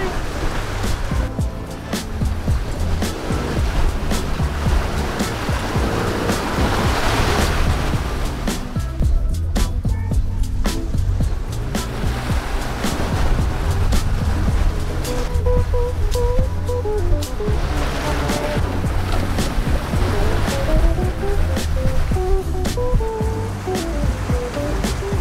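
Ocean waves washing continuously around a sailboat at sunset, a broad steady rush of water with people talking over it.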